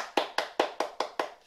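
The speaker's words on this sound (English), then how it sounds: "Give yourselves a clap." A group gives a short round of hand claps, six sharp, evenly spaced slaps close by with a brief quiet after each, during a sensory story session about a day at the farm.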